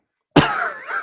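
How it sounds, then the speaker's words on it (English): A single short cough bursts out suddenly after silence, close and fairly loud, with a brief throaty tail trailing off. "I can get all my coughs out now"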